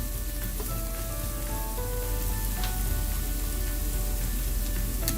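Cauliflower for Gobi Manchurian fries in oil with a steady, dense sizzle that stays even and close throughout, broken by a few faint clinks and no talking.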